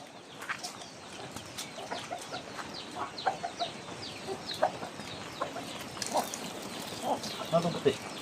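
Chickens on a farm during a flood evacuation cluck repeatedly, with scattered near and far calls and an occasional rooster crow layered over steady background noise, while people talk nearby.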